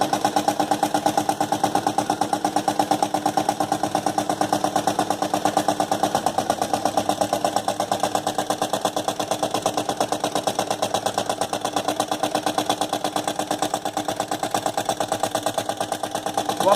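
Homemade engine built from soda cans running steadily, a rapid even mechanical ticking and chugging that holds a constant rhythm at close range.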